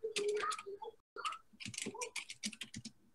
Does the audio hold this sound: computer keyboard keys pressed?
yes